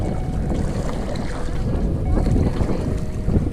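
Wind gusting against a small boat out on a lake, a continuous rough rush and buffeting of the microphone with water lapping underneath, loud and close throughout.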